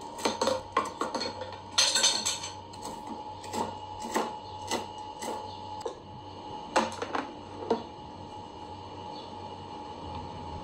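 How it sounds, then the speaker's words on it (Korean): Frozen red chili peppers being chopped with a knife on a cutting board, a series of crisp irregular taps and clacks, some in quick clusters, over a faint steady background hum. "홍고추 얼려놓은 거 갖다가 쫑쫑 썰어서 섞기만 하면 돼요"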